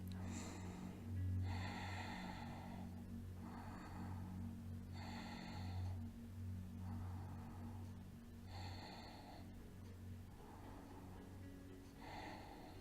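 Breathing while holding a hatha yoga posture, heard as a series of about seven slow, even breaths, each lasting around a second with pauses between, close and clear over a steady low background hum.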